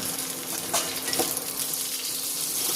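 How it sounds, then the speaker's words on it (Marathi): Steamed green chillies fry in a little oil, giving a steady close sizzle and crackle with faint stirring scrapes throughout. "आता जास्त तेलकट चालत नसल्यास या पद्धतीने थोड्या तेलामध्ये या मिरच्या आता सगळीकडून पलटून"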